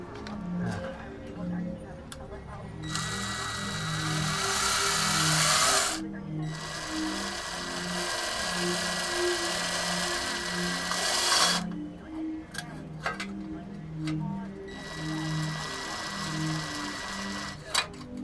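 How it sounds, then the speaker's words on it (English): A power drill whirs in several long bursts of a few seconds each while working on broken bolts on a KLR650 motorcycle, with steady rattling clicks and faint voices between. "I'm gonna get my drill"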